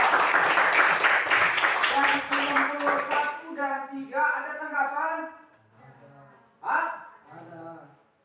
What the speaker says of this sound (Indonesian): Berarti tepuk tangan buat kelompok 2